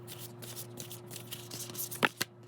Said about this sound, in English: I'm going to shuffle and we're going to look at where you're likely going to be